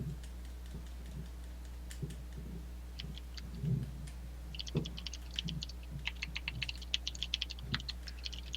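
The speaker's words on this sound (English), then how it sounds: "I'm actually typing" Typing on a computer keyboard: sparse soft taps at first, then a burst of quicker, sharper key clicks, close by over a low steady hum.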